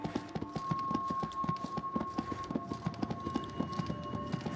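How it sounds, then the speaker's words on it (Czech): Horse hooves clip-clop in a steady, fairly quick rhythm in the fantasy video game Disciples: Liberation, the even beats carrying over a constant background hum of game ambience. "ten člověk jezdí na koni"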